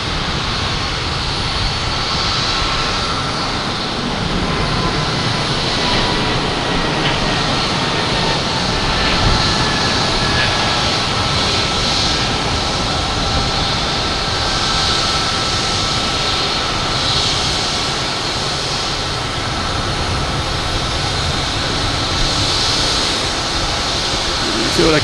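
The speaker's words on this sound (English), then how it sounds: "Let me get this JetBlue taken off to Cleveland" JetBlue Airbus A220 taking off from Boston Logan for Cleveland, a steady broadband jet roar that holds at a constant level throughout with no clear rise or fade.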